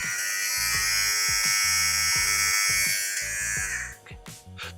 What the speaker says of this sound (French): Donc là je vais poser mon rasoir dessus.